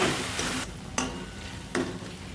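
Spiced matar paneer masala of green peas and paneer with turmeric, salt and coriander-cumin powder, stirred in a pan under a steady sizzle, with a few sharp scraping strokes of the spoon at intervals.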